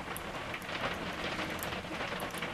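Heavy rain drums steadily on and around a shed, a dense continuous patter with scattered sharper drops, close and fairly loud with no voices.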